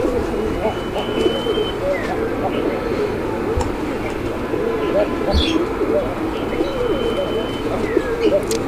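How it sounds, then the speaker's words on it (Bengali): A pair of red Bombay pigeons coo repeatedly in soft, low, rolling phrases close by, while people talk over the birds and other faint chirps sound in the background. "এটা হচ্ছে বোম্বাই কবুতরের একটা জোড়া রেড কালারের মধ্যে"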